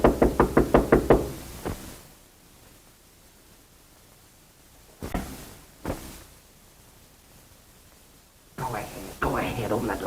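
A rapid series of sharp knocks on a door, about seven close raps in a 1930s mystery thriller setting, followed by quiet, then a couple of scattered thumps and voices speaking near the end.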